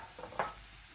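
Sausages and sautéed vegetables stirred together in a pot make a short scrape and soft sizzle, with one brief clatter of the utensil midway, fairly quiet.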